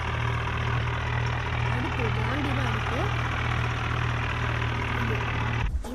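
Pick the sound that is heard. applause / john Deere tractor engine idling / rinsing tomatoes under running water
john Deere tractor engine idling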